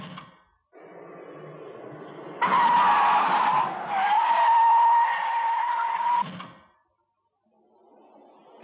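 A car's tires screech in a long, loud skid lasting several seconds, a high shrill squeal over engine rumble, then it stops.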